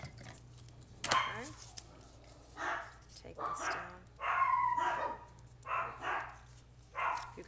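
Several dogs barking indoors, short separate barks about once a second at moderate distance, with quieter background noise between them.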